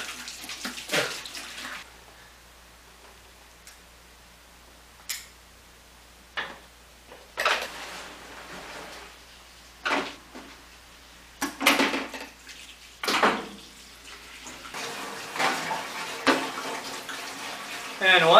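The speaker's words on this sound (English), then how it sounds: "So I'm just going to siphon it out." Rinse water is siphoned out of a 1976 Mazda RX-5 Cosmo fuel tank after soaking overnight, heard as irregular bursts of gushing and splashing separated by quieter gaps over a low steady hum.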